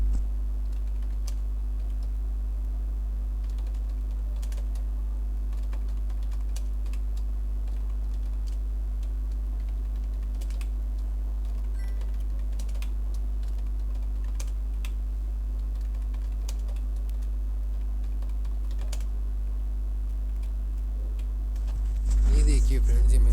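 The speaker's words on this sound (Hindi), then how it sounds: "यहाँ पर सबसे पहले मैं कुछ नाम टाइप करूँगा।" Typing on a computer keyboard while names are entered into an Excel spreadsheet, a steady stream of light key clicks at close range over a low background hum, louder handling noise at the end.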